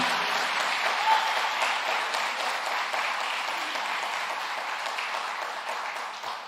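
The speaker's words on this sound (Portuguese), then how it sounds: "Vamos aplaudir o nosso Deus." A church congregation applauds during a sermon, a dense, steady wash of many hands clapping that stays loud and even for several seconds with no talk over it.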